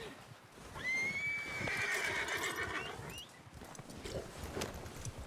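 A horse in the video game Red Dead Redemption 2 lets out a long, loud whinny, followed by softer hoofbeats and movement as it rides off, with no talk in between.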